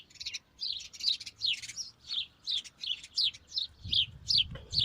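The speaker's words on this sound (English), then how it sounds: "Hear the birds beautifully." Several birds sing and chirp in a seaside park garden in Waterloo, Liverpool, with bright repeated phrases about twice a second, fairly near and clear, over faint low outdoor rumble.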